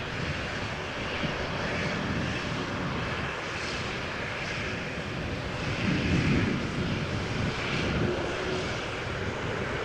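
A Boeing 787-10 Dreamliner from LAX moves at Amsterdam Schiphol airport, giving a continuous moderate jet engine roar that rises briefly midway, with some wind buffeting on the microphone.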